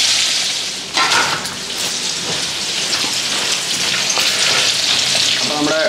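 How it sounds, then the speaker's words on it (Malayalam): Egg masala fries in a pan over a medium flame with a dense, continuous crackling sizzle, close and fairly loud, broken by a brief clatter near the start and no speech. "ഓക്കെ, അപ്പോൾ നമുക്കൊന്ന് ഇതൊന്ന് ഫ്രൈ ചെയ്തെടുക്കാം."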